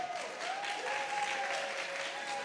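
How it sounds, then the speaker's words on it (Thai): Audience applause at a Thai male pageant reality show welcoming its 29 finalists, a steady wash of crowd clapping heard at moderate distance, with a sustained musical tone running underneath. "ขอเสียงปรบมือต้อนรับทั้ง29คนสุดท้ายนะคะ"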